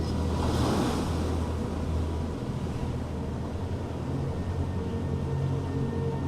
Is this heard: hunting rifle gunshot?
no